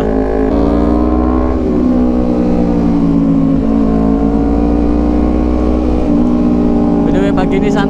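Loud motorcycle exhaust while riding on a road, with a steady heavy engine drone and shifting revs throughout, close and dominant.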